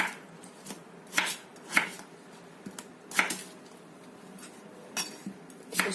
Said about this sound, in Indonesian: Setelah aku kupas dan cuci bersih, ini kita potong ya